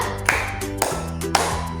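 Three sharp hand claps, evenly spaced about half a second apart, from a counting ice-breaker clapping game in a classroom, with a tonal voice sustained between and under the claps.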